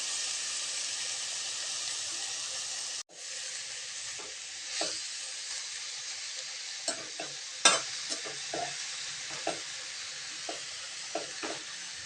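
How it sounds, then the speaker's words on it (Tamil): Spinach sautéing in hot oil in a pan, a steady sizzle and hiss broken by a sharp cut, then scattered scrapes and knocks of stirring over the continuous frying. "கீரையை சேர்த்துட்டு ஒரு 2 நிமிஷத்துக்கு நல்லா வதக்கி விட்டுக்கலாங்க."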